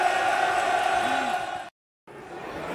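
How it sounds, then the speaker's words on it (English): Football crowd at a Millwall vs Sunderland match roaring and cheering in a continuous loud swell, cut by a brief silence, with commentary talk over it. "Crowd love it."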